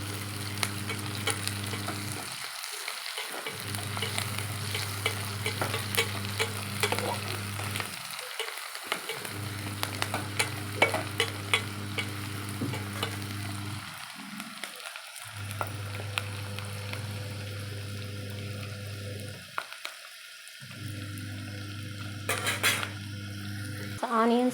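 Onions and slivered green chillies frying in a pan for mutton curry, a steady close sizzle with stirring clinks of a spoon against the pan, broken by a few brief pauses, no talk.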